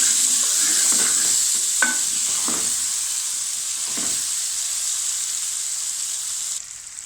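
Chicken tikka karahi being stirred in a hot pan, with a steady bright sizzle under a few scraping strokes of the utensil, close and fairly loud, and no talking.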